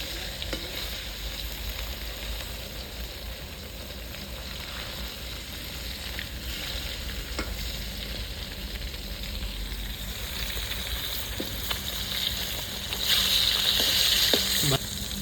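Fish frying in hot oil in a village-style kitchen gives a steady, close sizzle that runs the whole way through and swells louder near the end.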